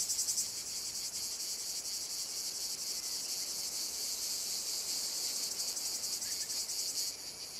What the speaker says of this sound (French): La cigale est ventriloque.